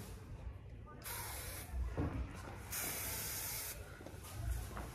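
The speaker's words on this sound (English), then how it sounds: "go ahead and hairspray the tag end part down" Hairspray sprayed onto hair to set the tag end of a hairpiece, heard as two close, steady hissing bursts of about a second each, with quiet rustling between them.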